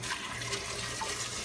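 Tap water pours into a container, a soft continuous splashing rush, faint and steady for the brief moment, with no talking.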